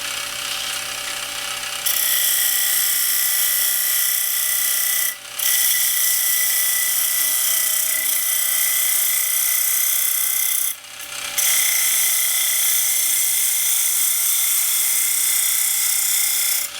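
Wood lathe turning a grafted claro walnut bowl blank down to a cylinder, a loud steady whine with tonal harmonics that runs almost throughout, with two brief dips where the cut pauses.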